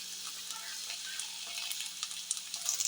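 Tomato and garlic fry in a pan, giving a faint, close hiss of sizzling with occasional small crackles and pops, steady throughout with no talking.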